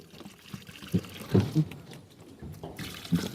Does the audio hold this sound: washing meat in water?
yes